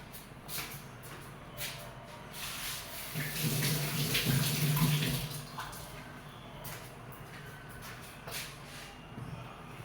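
Water runs from a tap while beetroot is rinsed under it, swelling louder in the middle before settling to a softer trickle.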